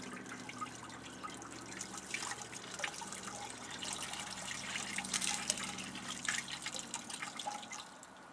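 Water trickles and drips as it is wrung out of a wet deer skin during brain tanning, a soft, continuous dribbling with scattered drops, quiet and close, with no voices.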